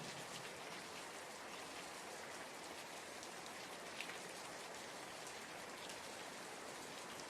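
Steady rain falls evenly on a surface, a constant dense hiss with faint scattered drops and no voices, even in level throughout.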